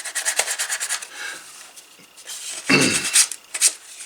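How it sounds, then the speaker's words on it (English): Sandpaper rubbed by hand along the burned edges of leather pieces for a field notes book cover, a run of quick rasping strokes close by, then a louder scratchy burst and a few short scrapes. "just kind of sand them a little with the sandpaper"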